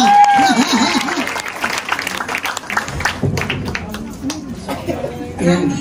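Congregation at an El Shaddai church gathering in Japan bursts into loud applause, dense clapping mixed with crowd cheers and chatter that swells and fades over several seconds.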